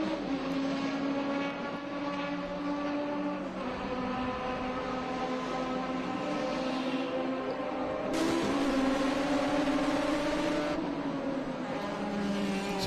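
Prototype race cars roar down the long front straightaway at Portland International Raceway, a loud, sustained engine drone with shifting harmonic pitch as cars pass in close draft, another car's note cutting in partway through.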